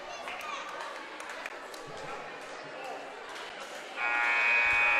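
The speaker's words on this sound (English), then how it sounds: "There's the second buzzer." A loud, sustained electronic buzzer blares near the end of a high school girls basketball game between Pottstown and Upper Me, over steady crowd murmur and a commentator's voice.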